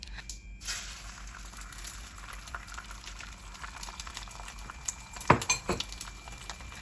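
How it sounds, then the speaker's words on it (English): Beaten eggs hit smoking oil in a stir-fry pan for a shrimp and vegetable dish, producing a steady crackling sizzle with a few sharp metallic clinks of utensil on pan, close and moderately loud. "Once the oil is smoking, add the beaten eggs."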